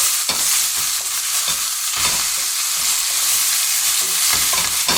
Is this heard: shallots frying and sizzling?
yes